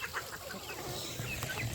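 Chickens on a homestead clucking in a dense, continuous flock chatter, steady and fairly close with no talk over it.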